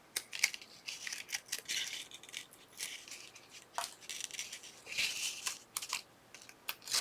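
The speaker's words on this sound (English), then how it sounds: "So I'm just going to pull off that resist tape." Resist tape peels off 3D foam adhesive on a junk journal craft piece. Close, quiet crinkling and tearing sounds come in short irregular bursts.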